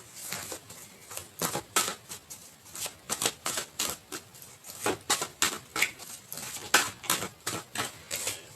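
Tarot cards being shuffled by hand, a steady run of crisp, papery riffling snaps repeating close up for several seconds, with no voices.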